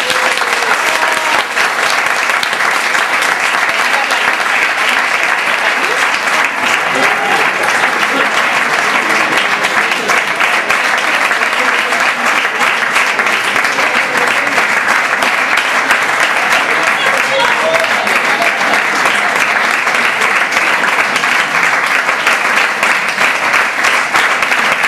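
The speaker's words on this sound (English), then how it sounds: "I think they deserve a really, really great round of applause." An audience gives a long round of applause after a performance of the play Cathleen Ni Houlihan, a dense, even wash of clapping that holds steady and loud throughout with no break.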